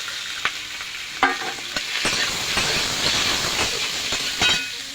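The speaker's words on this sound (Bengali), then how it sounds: "তেলটা গরম হয়ে গেছে, কটা পাঁচফোড়ন দিয়ে দেবো। ফোড়ন নাড়িয়ে দেবো।" Panch phoron spices crackling and sizzling in hot oil while being stirred, with sharp spoon scrapes and taps against the pan over a continuous hiss that swells midway, close and fairly loud, no speech.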